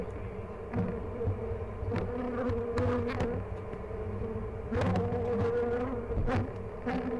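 Honey bees buzz steadily and close during an open hive check on a mountain apiary, a dense droning hum with swelling passes as bees fly near, no voices heard.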